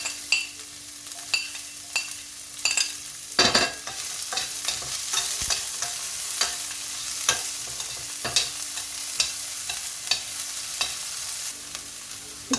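Onions frying in a pan with coriander, chillies and cumin for samosa filling, with a steady sizzle, repeated stirring scrapes and a few louder clatters, close by and with no talk.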